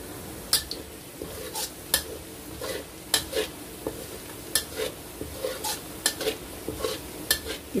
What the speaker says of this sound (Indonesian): bawang merah, bawang putihnya digoreng